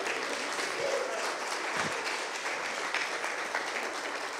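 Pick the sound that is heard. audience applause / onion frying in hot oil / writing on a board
audience applause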